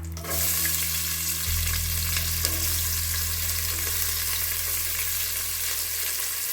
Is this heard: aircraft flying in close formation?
no